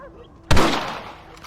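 A single rifle shot in the Red Dead Redemption game, a sudden loud close blast that decays over about a second, with no voices over it.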